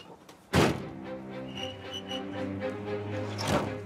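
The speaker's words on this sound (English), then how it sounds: "leave her loose and just pull us back and shut the side door." A horse lorry's side door is pulled shut with a single loud thud, followed by a sustained low engine hum and rumble that carries on to the end.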